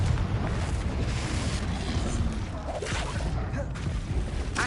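A Confringo fire spell explodes in Hogwarts Legacy, heard as a dense, continuous roar of booming, crackling blasts with layered game effects throughout.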